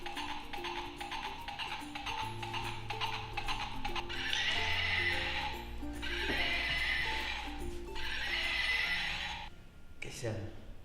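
A toy horse neighs and whinnies repeatedly with clip-clopping hoof sounds over a busy electronic tune, loud and close, with a child's activity setting in the background.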